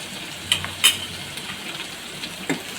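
Spices with turmeric and salt sauté in a pan for a chickpea curry gravy, a quiet ongoing sizzle broken by a few brief scraping stirs and clinks, close up with no talking.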